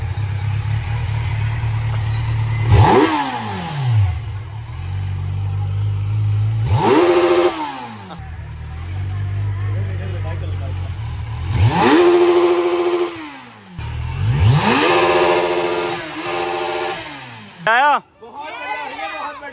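A Kawasaki Z900 motorcycle engine revs up in several sharp bursts, rising and falling in pitch between rumbling idle stretches, loud and close.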